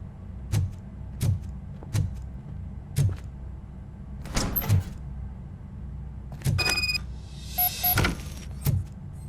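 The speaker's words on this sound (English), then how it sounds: "Now let me get that door open for you." Mechanical door in RoboCop: Rogue City opening with a run of heavy thunks and clanks, a motorized whir and a burst of hissing servo noise near the end, close and fairly loud.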